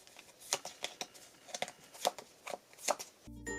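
A deck of playing cards is shuffled during a Magic: The Gathering combo, giving a run of crisp, papery riffle bursts in an uneven rhythm, close and fairly quiet, with no talking.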